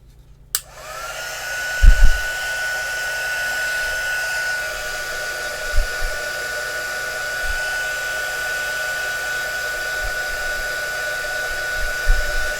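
After a click, a heat tool blows with a steady, airy whoosh and a thin high whine, continuous throughout, with occasional soft bumps underneath.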